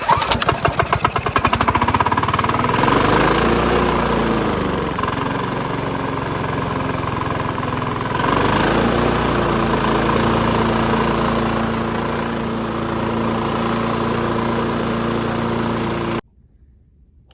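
A Honda commercial push mower engine fires up with rapid chugging, then settles into a loud, steady close-range idle with wavering pitch before cutting off abruptly.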